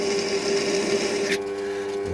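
A Noga deburring tool scrapes a chamfer onto the metal edge of a part for a Warco WM180 lathe quick-change toolpost, a close, continuous rasp over a steady hum that stops abruptly partway through.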